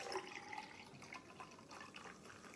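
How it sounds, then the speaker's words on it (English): Corona beer is poured from a just-opened bottle into a glass rimmed with salt for a michelada, a quiet close liquid splash and fizz running for a couple of seconds without talk. "we're going to pour some Corona in there."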